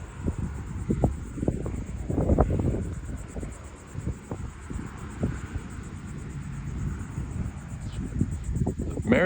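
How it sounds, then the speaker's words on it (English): Gusty outdoor wind on a blustery Fourth of July, buffeting the microphone with a steady low rumble and scattered thumps, with faint insect chirping in the background. "It's really windy."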